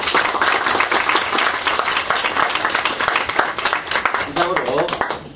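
Audience applause fills the hall at a high school book club debate final, dense steady clapping at close range that holds for several seconds before tapering off at the end.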